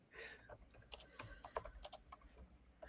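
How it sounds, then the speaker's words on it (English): Fingers typing on a computer keyboard, a quiet irregular run of close key clicks and taps at uneven speed, with no voices over them. "I'm not typing that fast and I make a ton of mistakes"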